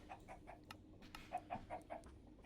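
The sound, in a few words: chickens clucking in Minecraft video game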